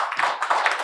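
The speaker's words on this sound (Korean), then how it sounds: "박수 부탁합니다" Short burst of applause from an audience at an academic conference on local councils, with a few hands clapping in uneven bursts, fairly close and brief.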